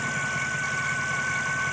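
The engine of a 2007 Mercedes S550 idles steadily and close, a smooth continuous hum overlaid by a constant high-pitched squeal from the belt.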